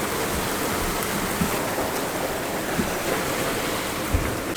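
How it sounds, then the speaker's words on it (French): Strong wind and rain at sea aboard a sailboat making 7 knots in about 21 knots of wind, a constant dense wash of water and gusting noise with occasional soft thumps. "le vent va arriver bientôt, et fort, avec la pluie"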